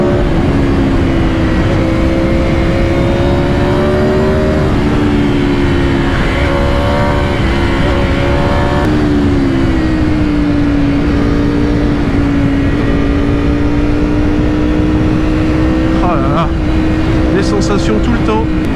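An Aprilia RSV4 RF motorcycle engine howls loudly and steadily while accelerating through a track turn, its pitch rising and dipping with the throttle over constant wind roar.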